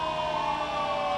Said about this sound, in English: keeping everybody awake, blowing the sirens